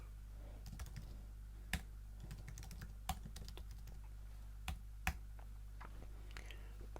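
Typing on a computer keyboard in Apple Notes, quick irregular bursts of soft keystrokes with a few louder key hits, close and quiet over a low electrical hum.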